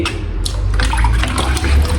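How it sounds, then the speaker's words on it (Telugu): Running water with a child splashing in it, a steady broadband wash that stays fairly loud and close throughout with no voices. "అరే వాటర్ అంతా వేస్ట్ చేయకు, తడిసిపోతావు"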